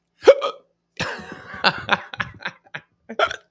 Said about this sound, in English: I get the hiccups all of a sudden.